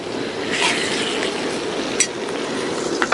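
Ginger garlic paste dropped into goat liver curry frying in a pan and stirred: a steady, close sizzle with soft scraping and a few light clinks of a spoon against the pan.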